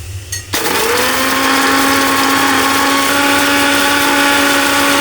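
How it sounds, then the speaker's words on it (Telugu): An electric mixer grinder starts up and grinds roasted cumin seeds and dried red chillies into powder, a loud steady motor whir with a rattling jar that holds for several seconds after a short quiet lead-in. "జీలకర్ర ఎండుమిర్చి మనం ఫ్రై చేసుకున్నవి చల్లారిన తర్వాత మనం ఇలా పొడి చేసేసుకుందాం"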